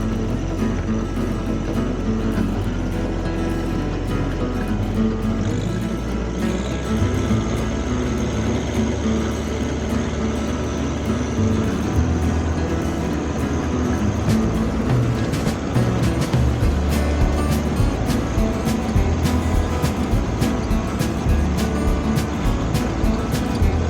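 John Deere 1025R compact tractor pulling an RC2048 rotary brush mower through overgrown brush, a steady loud engine drone joined by a whirring blade hum and scattered ticks of cut material, constant and close.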